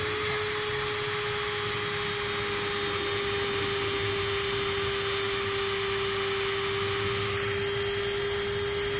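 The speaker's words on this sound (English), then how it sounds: "I'm going to hold it in place with my fingers, and I'm going to turn the Dremel on" A Dremel rotary tool runs continuously with a steady high-pitched motor whine, close and unchanging in pitch, with no speech over it.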